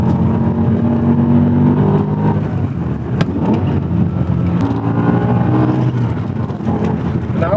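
A BMW M5 E60 with a manual gearbox, its V10 breathing through a very loud F1-style exhaust, revs hard through a downshift, blaring and rising in pitch, close and continuous throughout with no talk.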